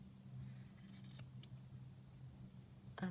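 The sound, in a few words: scissors trimming fabric scraps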